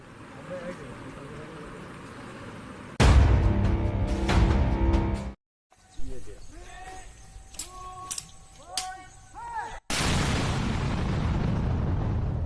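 An IED on a road is detonated by soldiers: a sudden loud blast breaks into a sustained roaring rumble, and after a quieter stretch with tonal sweeps a second heavy blast roars on to the end.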